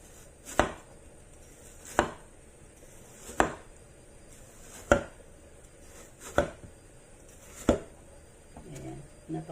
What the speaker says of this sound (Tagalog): Slice natin yan, ganyan.